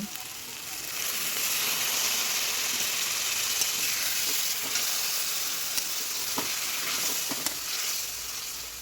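Homemade spice paste for a jackfruit curry sizzles and spits in hot oil while being stirred, a steady, close, loud fry with occasional sharp crackles throughout.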